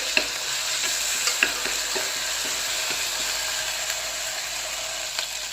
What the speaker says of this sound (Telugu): ఇది కూడా పచ్చివాసన పోయేంత వరకు వేయించుకోవాలి